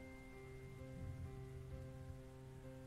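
Steady rain falls over Paris in a Cthulhu adventure game, a dense, even hiss with faint low ambient tones running beneath it and no voices.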